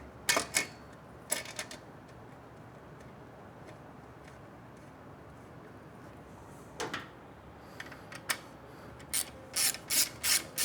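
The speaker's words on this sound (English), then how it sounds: "I'm going to just tighten it up enough to keep it tight to the frame" A ratcheting tool drives an exhaust mounting screw into the frame of an air-cooled Triumph Bonneville, with short clusters of sharp metallic clicks that come in bursts between quiet stretches and quicken toward the end.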